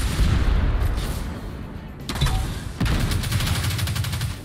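Rapid gunfire in the Destiny 2 video game, loud bursts of repeated shots rattling close, with a brief pause and then a fresh sustained volley, no talking.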